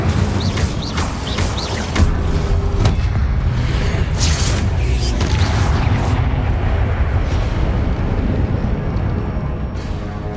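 Incendio fire spell in the Hogwarts Legacy video game: a dense, roaring whoosh of flame with low booms and crackling, loud and continuous, with a few bird-like chirps early on.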